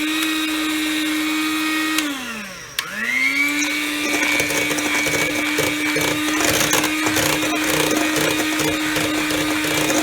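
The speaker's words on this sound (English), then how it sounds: "I'll now whisk this for a next minute on low." An electric hand whisk runs steadily on low speed through ice cream batter with chopped chocolate bits, its motor whine briefly dipping and recovering before settling into a continuous even drone, close and loud.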